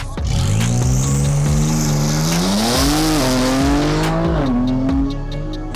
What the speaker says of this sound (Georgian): აი MP10 აჭერს.